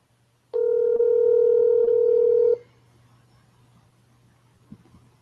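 A telephone gives a steady two-second tone, like a dial or dialing tone, that cuts off abruptly. Faint low background hum follows.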